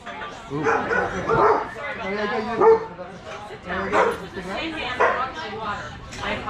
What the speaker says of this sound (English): Vlog interrupted by a dog.